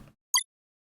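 A short synthesized bloopy note passed through a frequency shifter without a vocoder: a single bright, quick blip standing alone in silence, lasting about a tenth of a second.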